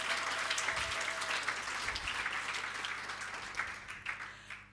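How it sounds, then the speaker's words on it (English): An audience at a government event launching an NPO status awareness campaign breaks into a steady round of applause, a dense wash of clapping that holds for several seconds and tapers slightly toward the end, with no speech over it. "Can we please give them a big round of applause?"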